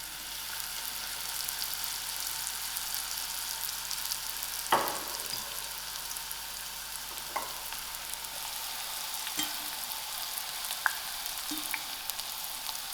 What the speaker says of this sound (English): put it into my hot oil